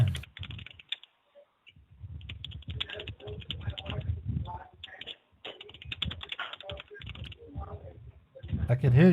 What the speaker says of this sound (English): I can hear you typing something